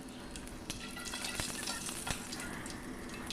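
Panch phoron and two bay leaves crackle and sizzle in hot refined oil, a steady close frying hiss broken by a few sharper pops.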